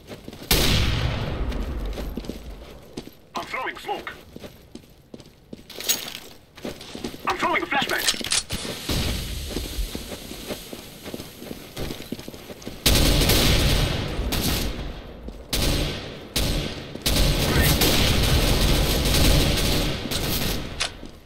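Gunfire in CS:GO, bursts of automatic rifle fire near and far over a noisy match, mixed with footsteps, while players talk throughout.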